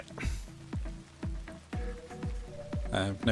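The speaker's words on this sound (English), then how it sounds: "I run for it through the rain from the sprinklers." Sprinkler rain in the video game Sound of Drop patters as a steady, soft spray, with regular low thudding footsteps running through it and a brief rustling burst near the end; no talking.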